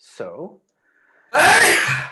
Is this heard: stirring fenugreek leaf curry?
no